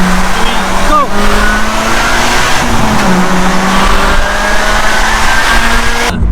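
A remapped Audi A3 2.0 TDI pulls hard in first gear, its engine loud and close, with the revs rising steadily under someone talking excitedly throughout.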